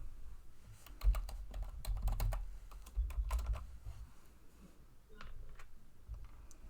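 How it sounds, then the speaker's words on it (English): Quick bursts of keystrokes on a computer keyboard, with uneven rhythm and short pauses, close and moderately quiet against a low room rumble. "I'm just going to type that in."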